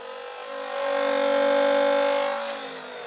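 A Nerf Phoenix Elite 2.0 blaster motor spins up with a steady, loud whirring hum that swells in the middle and then eases slightly, with no talk over it.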